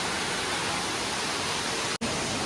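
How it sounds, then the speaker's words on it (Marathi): A small waterfall beside a little Ganesh temple in the rain gives a steady, close, full rushing wash of water that carries on alone with one brief dropout. "त्याच्याच बाजूला हा आपला छोटासा वॉटरफॉल आहे"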